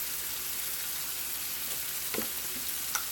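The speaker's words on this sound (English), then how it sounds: "I'm sure y'all can hear that chicken sizzle" Chicken frying in a pan gives a steady, close hiss of sizzling oil with a few small pops and crackles.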